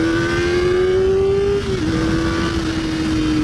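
A 2023 Kawasaki ZX4RR motorcycle accelerates hard with a loud, close, high-pitched engine whine that climbs steadily, breaks briefly at a quick upshift, then keeps pulling at a slightly lower pitch.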